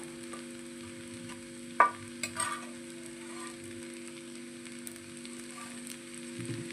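Potatoes are stirred into spiced rice in a pan, with a few faint, brief scrapes and soft sizzles over a steady low electrical hum.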